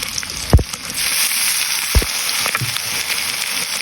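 Chicken feet sizzle in hot oil for adobong pinatuyo, a steady close crackle of frying with a couple of sharp pops. No voices are heard.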